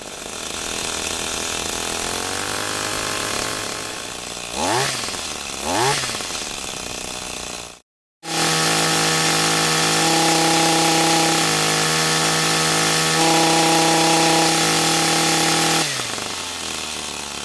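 A small engine with a limited ignition coil revving up and repeatedly hitting the rev limiter, a loud rasping buzz with wavering pitch swings, a brief cutout, then sustained high revs bouncing against the limiter, no voices.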